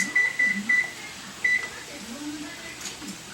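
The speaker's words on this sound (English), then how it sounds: "I'm going to set the timer for 5 minutes." Short electronic beeps from a kitchen timer repeat in a quick cluster, then once more, against quiet room noise with faint voices and clatter.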